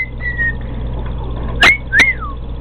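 A person whistles a few short, thin notes, then two sharper rising-and-falling whistles close together near the end, loud and close with no talking.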